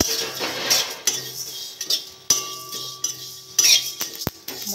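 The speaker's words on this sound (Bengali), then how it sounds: "কড়াটা গরম হয়ে গেছে, আমি এগুলো ভেজে নেব" Fennel and whole spices are dry-roasted in a hot kadai, with a metal spatula clinking and scraping against the pan in sharp, irregular strikes and short pauses between them.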